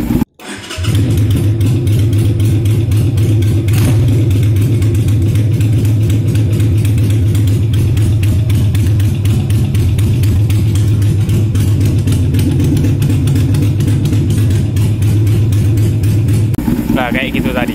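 A Chicano-style Indonesian-made Harley-Davidson-type motorcycle engine starts and idles loudly, its exhaust throbbing in a fast, steady pulse for a long stretch before cutting off.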